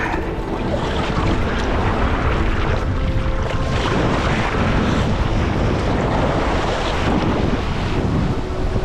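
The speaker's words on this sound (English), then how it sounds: "There's a big wave." Waves surge onto a tropical island shore where a small lightweight boat sits, a dense continuous rush of water mixed with heavy wind buffeting the microphone, loud and close with no talking.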